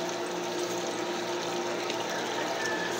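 Water pump steadily filling a container with water, a constant, loud gushing rush with a steady mechanical hum beneath, unbroken throughout.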